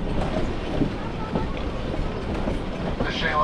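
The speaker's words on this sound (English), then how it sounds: "The Shay locomotive is very unique." A Shay geared steam locomotive runs on the Yosemite Mountain Sugar Pine Railroad, giving a steady, close rumble with rhythmic clanking. A voice talks faintly underneath.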